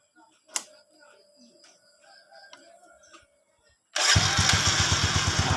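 A vehicle engine starts after rat-chewed wiring is repaired: quiet clicks and faint sounds, then an abrupt loud catch at about four seconds settling into a steady, close idle.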